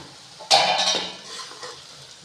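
Karela (bitter gourd) with onions is stirred in a pan: a loud burst of scraping and clinking utensil strokes against the metal with light sizzling, fading after a second, then a fresh scrape at the end.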